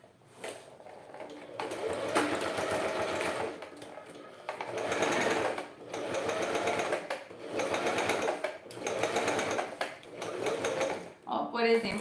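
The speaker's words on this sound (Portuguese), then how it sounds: "agora eu tô costurando pelo lado mais liso do meu bagulho" A sewing machine stitches material under a metal presser foot while making a wine bottle holder, running in several rapid whirring bursts separated by short pauses, close and clear.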